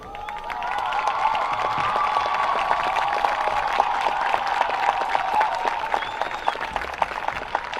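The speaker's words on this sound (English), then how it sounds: "let's give them a round of applause" Sustained applause and crowd cheering from spectators at a varsity high school football game, honoring standing survivors; steady, dense clapping throughout with a light voice or two under it.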